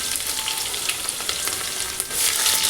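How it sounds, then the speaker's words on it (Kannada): Chopped onions frying in hot oil with popped mustard seeds and cumin for a pulao, a steady dense sizzle and crackle close up with no talk. "ಅದಕ್ಕೆ ಹೆಚ್ಚಿಟ್ಕೊಂಡಿರೋ ಈರುಳ್ಳಿ ಮಿಕ್ಸ್ ಮಾಡೋಣ."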